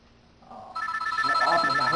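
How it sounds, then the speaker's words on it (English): A phone rings with a steady electronic tone that starts partway in and repeats in quick pulses, fairly loud and continuing to the end, with a faint voice at the start. "his phone is ringing"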